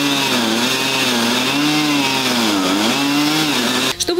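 A chainsaw cuts a tree along a highway near Sochi while an excavator holds the trunk, its engine droning loud and steady with wavering pitch for about four seconds before cutting off abruptly at the end.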